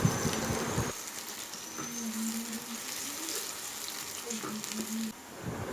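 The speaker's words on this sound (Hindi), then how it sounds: "इसको अच्छा सा सौते कर लेंगे जब तक ये प्याज हमारी लाइट गोल्डन ना हो जाए" Onions sautéing in oil in a pot for aloo qeema, a steady soft sizzle with occasional stirring scrapes, close and low in level.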